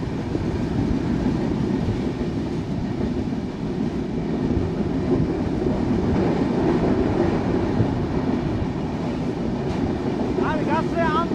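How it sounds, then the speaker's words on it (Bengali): Panchagarh Express passenger train running through Tilakpur railway station, a loud steady rumble of wheels on rails with rhythmic clatter throughout, heard from on board, with faint bird chirps near the end. "রাইট নাও আমরা থ্রোপাস করতেছি তিলকপুর রেলওয়ে স্টেশন।"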